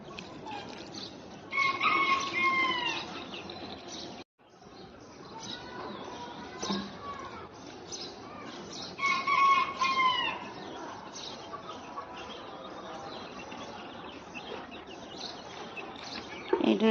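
Backyard chickens cluck steadily on a home rooftop garden while a rooster lets out crows, the calls close and fairly loud, with bursts of clucking rising and falling over a continuous hen chatter.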